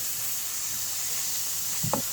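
Goat fat dropped into a wok of frying spices, ginger paste, cinnamon, cloves and bay leaf, giving a steady close sizzle with a brief louder burst and stir near the end.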